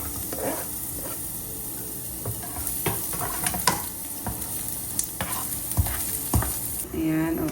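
Garlic frying in hot cooking oil in a pan hisses steadily up close, punctuated by scattered sharp clicks and stirring taps, with a brief burst of louder bubbling at the end.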